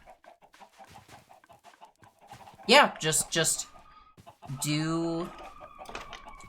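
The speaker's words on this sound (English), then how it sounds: "that's just why there's so many chickens on Chicken Hill." Chickens cluck and squawk in Minecraft, with a few loud strained calls breaking out over a quiet background, while a person speaks briefly in between.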